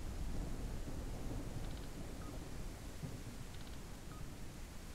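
Steady rain falls on a planet surface in the space game SpaceBourne 2, a constant hiss of dense rainfall heard alone, with faint low rumbles beneath and a couple of soft electronic beeps.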